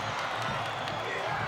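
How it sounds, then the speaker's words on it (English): A capacity wrestling crowd at the Garden during a WWF match roars in a steady, loud wash of cheering and clapping, with a voice speaking over it. "And this capacity crowd comes alive here."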